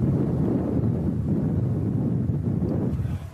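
Strong trade wind blows across a golf course, a loud steady roar buffeting the microphone with low rumbling gusts that ease slightly at the end.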